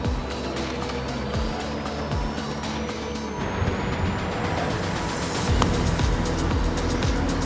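A Begode EX.N high-torque electric unicycle rides along, with a steady motor whine rising in pitch and continuous road and wind noise throughout, no talking.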